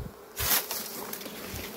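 Honey bees buzz inside a full hive with low frames, a dense steady hum close by that swells louder for a moment near the middle, with no talking.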